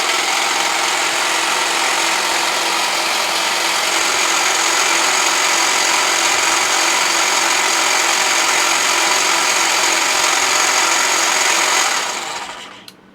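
A DeWalt cordless hand hedge shear, model DCHT820, runs at a steady high-pitched buzzing whine for about twelve seconds, then cuts off and coasts down quickly to silence.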